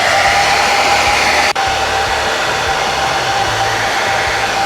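A heat gun roars steadily up close, heating the cracked plastic of a car bumper damaged by hitting a cat, with one tiny dip in the continuous airflow hiss.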